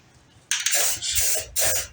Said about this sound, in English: Just gonna spray that stuff on.